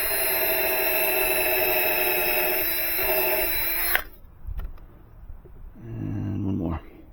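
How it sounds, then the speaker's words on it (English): Cordless power drill drives a screw through a wooden stair riser into the stringer during an outdoor deck repair, a steady loud whir for about four seconds that cuts off sharply, followed by faint handling noises and a low hum. "to make sure we really catch the meat of the riser with the screw"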